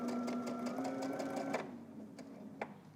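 A sewing machine stitches the hem of a tank top in a steady, close whirring run for about one and a half seconds, then stops, leaving a quieter room with a couple of small clicks.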